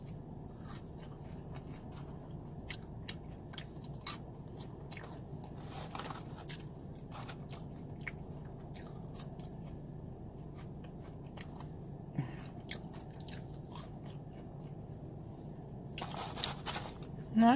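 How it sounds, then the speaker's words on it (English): Arby's fries are eaten close to the mic, soft crunchy bites and steady chewing repeating quietly over low background noise, with a few sharper clicks near the end. "I'm going to try to enjoy a little more of these fries"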